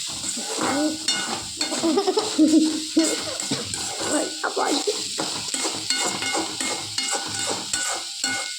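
A cooking pot holding tomato, chili, curry leaves and onion in oil is stirred, with continuous sizzling and scraping close by. A voice talks intermittently over it.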